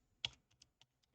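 A computer keyboard is tapped in a short run of keystrokes while entering a scanning command, one firm press then several lighter, evenly spaced clicks, close and quiet.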